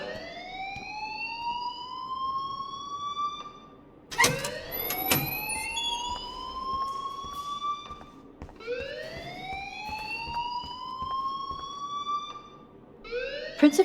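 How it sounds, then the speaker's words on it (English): Rising and falling electronic alarm wails loop through a school building in the video game Life Is Strange, loud and insistent, repeating in long sweeping cycles with a sharp clatter partway through. "please turn off that alarm since that's your job"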